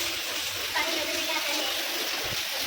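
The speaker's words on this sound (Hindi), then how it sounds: "बारिश का पानी देखें कहाँ तक आ गया है।" Rainwater flowing during a rainstorm makes a steady, fairly close, broadband watery hiss that runs unbroken and alone.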